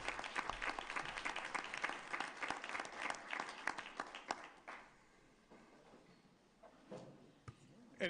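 Applause from a county board of commissioners meeting audience after an official's swearing-in, dense clapping for about five seconds then thinning to scattered claps.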